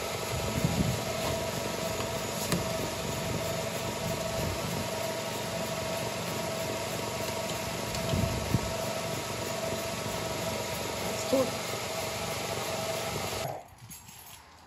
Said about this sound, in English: I'm gonna let it run for a little bit, let it heat up.